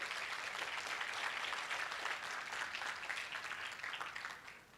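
Workshop audience at a mental health awareness event applauding together, a steady wash of clapping that stays loud and even for several seconds before tapering slightly at the end.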